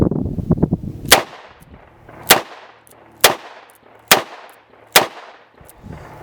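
Five sharp, loud gunshots from a Taurus Model 605 .357 Magnum revolver fired double action, spaced roughly a second apart, each with a quick decaying tail, preceded by softer handling rattles.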